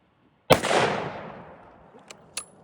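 A model 1899 Krag rifle fires a single loud, sharp shot outdoors on a range, its crack trailing into a long fading echo, followed by faint clicks and a brief metallic ping.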